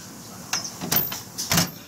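A Snap-On tool box drawer holding screwdrivers slides open in a few quick metallic bursts, a short rolling scrape followed by a louder clunk, close and crisp with no talk.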